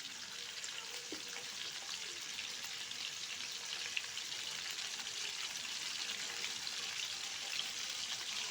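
Snakehead fish frying in a pan of oil for a sour dish with dried mango, a steady soft sizzle and crackle throughout with occasional small pops, close and unbroken with no talking.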